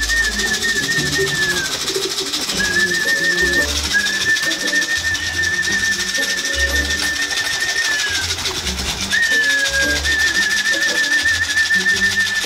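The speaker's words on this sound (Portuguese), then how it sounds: "Aqui é onde a gente vai colocar os pombos, a caixa de transporte." Homing pigeons coo steadily and close by in low, soft repeated calls, with a thin high whistling tone running above them throughout; no speech.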